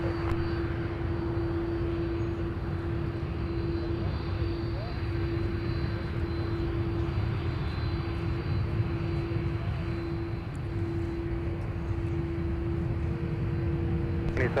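An airliner's engines at Minneapolis airport during takeoff, a constant, broad roar with a steady high drone running underneath throughout, loud and unbroken.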